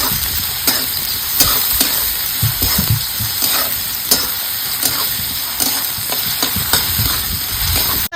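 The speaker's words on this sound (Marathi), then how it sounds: "चांगला लाल मस्तपर्यंत आपल्याला कांदा भाजायचा आहे" Onions frying in oil until deep red-brown for a kharda bombil dish, a loud, constant sizzle up close with repeated sharp spatula scrapes and knocks against the pan.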